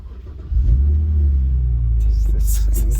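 A car engine with its exhaust resonator deleted cranks and catches, settling into a loud, low rumbling idle up close, with a sharper revving burst toward the end.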